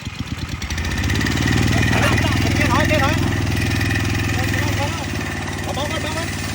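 An 18-horsepower gasoline engine drives a water pump fitted with a 4-inch, six-metre shaft. After a brief rough start it settles into a loud, steady running drone, with voices heard over it.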